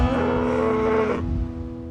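A cow moos once on a farm, a loud, close, drawn-out low call lasting about a second before trailing off into quieter lowing.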